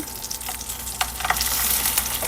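Whole garlic cloves fry in a pan for a garlic bharta, a steady, fairly close sizzle with scattered crackles and pops that grows a little louder toward the end.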